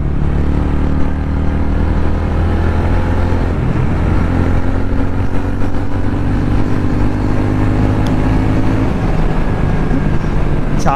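A TVS Ronin 225 motorcycle engine runs at high RPM, a loud, steady, close-up drone that rises slightly toward the end, with no talking over it.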